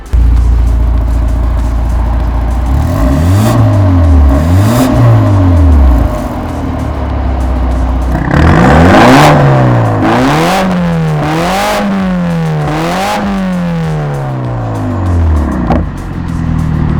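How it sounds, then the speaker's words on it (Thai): A modified BMW 528i F10 with an Armytrix exhaust revs loudly up close, its engine rising and falling through a string of throttle blips, then a longer series of sharp revs with a raspy, booming exhaust note. "เดี๋ยวผมจะลอง เบิ้ลท่อให้ฟังหน่อยดีไหม"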